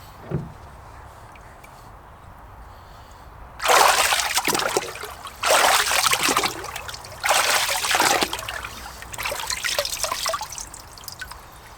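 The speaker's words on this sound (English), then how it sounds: "you're going to shake off any excess water" Excess water shaken off an AquaTech AxisGo underwater iPhone housing, heard as several loud bursts of splashing and dripping spatter after a quiet start.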